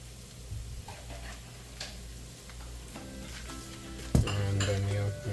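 Poha gets stirred in a pan over low heat, with soft scraping and clinks of the spoon against the pan above a faint sizzle, and one louder knock near the end.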